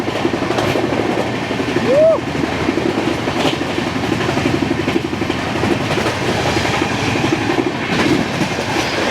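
A flat wheel on the 12882 Puri–Shalimar Garib Rath Express clatters in a steady, rapid rhythm, a loud and continuous clickety-clack over the running noise of the train, with a brief squeal early on.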